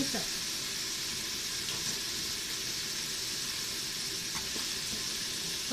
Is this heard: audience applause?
no